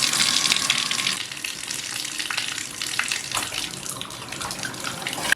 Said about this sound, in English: So first up is to shower.